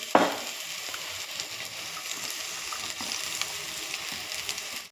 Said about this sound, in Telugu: అల్లం పచ్చివాసన పోయే వరకు వేయించుకోవాలి